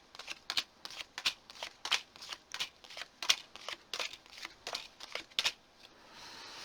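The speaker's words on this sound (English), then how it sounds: "let's put some cards down and see what comes up for you" Tarot cards shuffled and laid down one by one on a table, giving a brisk series of crisp riffles and soft slaps in an uneven rhythm, close and quiet, without talk.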